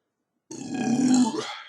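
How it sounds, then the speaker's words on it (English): A single drawn-out belch follows a taste of Lagunitas IPA, a 6.2% beer with Centennial hops, rising from silence, close and loud, lasting just over a second with a rough, gurgling tone. "that's a good belch."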